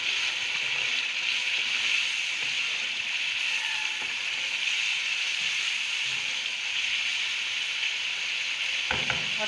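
Chicken and spices sizzle steadily in a pan on a lowered flame, with yogurt added and stirred through the hot masala for bhindi chicken; continuous close frying hiss, with a few utensil scrapes near the end.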